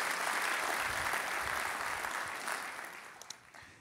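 Audience applause at a Long Beach civic presentation on city building projects, a steady broad wash of many hands clapping that fades gradually toward the end.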